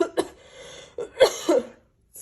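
A person recovering from COVID coughs several times in short, close, dry bursts separated by brief pauses, with no talk.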